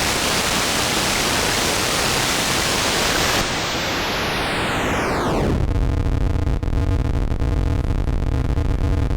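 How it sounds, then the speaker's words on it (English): A Serge CGS31 digital noise synth module hisses loud, broadband white noise that slowly sweeps down as its clock rate is lowered, turning into a gritty, buzzing, tonal texture, with no voices. "why don't we listen to what happens when we listen to the white noise and we start turning that clock rate down"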